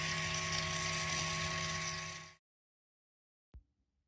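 Benchtop wire EDM machine cutting 1/4 inch aluminum at 10 mm per minute, giving a steady high whine with tonal hums for about two seconds before it cuts off abruptly. A single sharp click follows after a pause, then silence.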